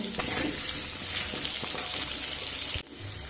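Potato and papaya pieces frying with turmeric and salt in a pan, a continuous loud hiss and sizzle with faint crackles, steady throughout before a brief dip near the end.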